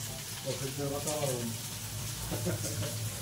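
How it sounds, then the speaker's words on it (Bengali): Meat fries in a pan with a soft, continuous sizzle at low level, while voices talk intermittently over the cooking. "কি সুন্দর মাংস হয়েছে। একদম ভাজা ভাজা"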